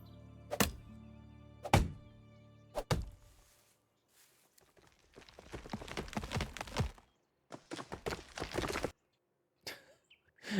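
A tree crashing down after being chopped in the Medieval Dynasty video game: a few sharp woody thunks, then a rustling, cracking fall with trailing bumps and brief quiet gaps, fairly faint overall.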